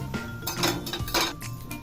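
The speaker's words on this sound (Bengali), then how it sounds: "এবার আমি একটা কড়াই বসিয়ে দেব চুলায়।" Metal kadai being set down on a stove, with a few close clanks and scraping knocks of cookware in quick succession.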